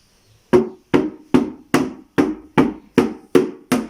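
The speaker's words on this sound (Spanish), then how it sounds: "Ahora la Ainara nos va a enseñar cómo se suena el cultrún." A kultrun drum struck nine times in a slow, even beat, each hit loud and close with a short ringing decay; no voices.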